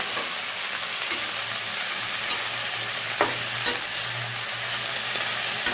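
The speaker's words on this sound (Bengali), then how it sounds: "এবার শাকগুলো দিয়ে দেবো।" Fenugreek greens stir-fried in a pan with dried red chilli and black cumin, a steady close sizzle broken by occasional sharp scrapes of the spatula against the pan, with no voices.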